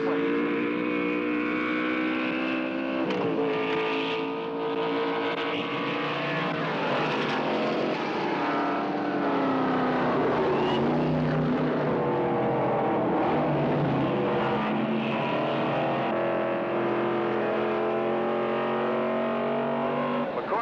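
Race cars at the start of the Riverside Trans Am race roar past loudly and continuously, engine tones rising and falling as the field accelerates and passes close by.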